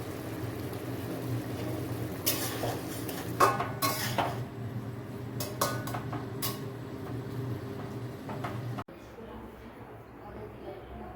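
Dishes and cutlery clink as food is served to everyone at a Bengali Ranna Pujo food festival, with scattered metallic chinks and clatter over constant background chatter; the scene turns quieter near the end.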